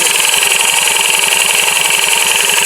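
A loud, noisy motorcycle engine with a fault causing abnormal noise runs steadily close by, with a rapid rhythmic chugging throb and harsh rattling on top.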